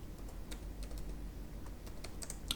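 Keystrokes on a computer keyboard while a command is typed, a quiet, close stream of irregular light taps alone over a low background hum.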